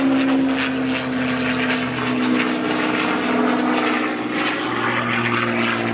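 A propeller airplane drones loudly overhead at an airshow, its engine note holding steady with slight wavering as it flies aerobatic rolls, with no other sounds.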